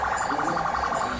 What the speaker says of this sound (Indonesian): Mobil ambulan guys.